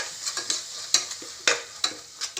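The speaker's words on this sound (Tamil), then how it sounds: "தக்காளி வெங்காயத்தோடு சேர்த்து வதக்கிடுவேன்" Tomatoes and onions with biryani powder being sautéed for tomato rice, a spoon scraping and stirring through the sizzling mixture in repeated sharp strokes, close and alone without any talk.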